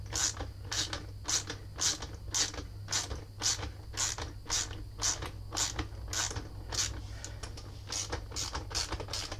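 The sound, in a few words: long bolt being screwed in on Yamaha R6 frame slider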